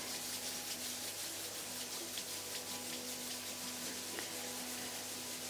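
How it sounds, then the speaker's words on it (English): Palms rubbed against each other at chest level during a group meditation session, a soft continuous swishing friction heard faintly over a low room hum. "rub the palms of your hands against each other"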